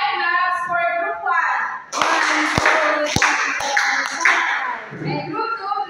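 A classroom group of children claps together in a short run of sharp, roughly evenly spaced claps, loud and close, with children's voices talking before and after.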